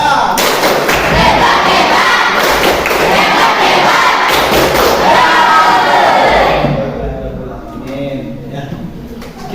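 A classroom of pupils does a loud rhythmic clapping cheer together, close and energetic, with voices chanting along before it drops off sharply near the end.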